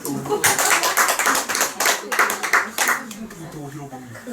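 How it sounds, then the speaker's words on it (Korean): An audience in a church lecture hall bursts into a short round of clapping, sharp hand claps building and then thinning into scattered claps, with a voice speaking over the later part. "박수 한번."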